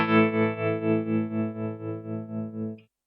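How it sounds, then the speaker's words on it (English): Electric guitar run through a Danelectro Tuner Melt tremolo pedal, its sustained chord pulsing steadily in volume about three times a second for nearly three seconds before cutting off, with no talking. "This one here is the Danelectro Tuner Melt, and it's a tremolo pedal."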